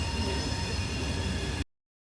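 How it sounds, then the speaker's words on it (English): A passing train rumbles steadily and loudly with dense broadband noise, continuing without pause before cutting off abruptly near the end; no speech is heard. "That's a train you can hear."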